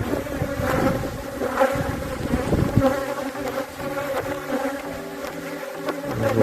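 Honeybees from a hive removed from a house hum in a dense, steady buzz that fills the whole stretch, close and moderately loud, with scattered handling knocks underneath and no talk.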